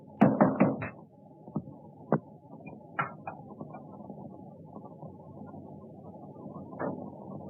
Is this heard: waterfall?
no